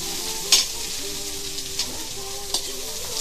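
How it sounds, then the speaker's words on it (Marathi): Vegetables stir-frying in hot oil for Indian-style fried rice, a steady broadband sizzle with a few sharper scrapes and clatters of stirring, close and continuous with no talking. "भाज्या घातल्यानंतर त्याच गरम तेलावर त्या परतून घ्या."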